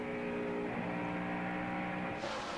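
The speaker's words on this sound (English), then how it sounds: "It looks like he sounded like he was able to get back in the throttle pretty strong up in that corner." Jeff Gordon's race car at the 2001 MBNA Cal Ripken, Jr. 400, heard onboard as it accelerates out of turn 3, a loud, steady engine roar that holds its pitch and brightens near the end.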